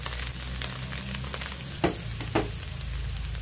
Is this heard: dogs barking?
no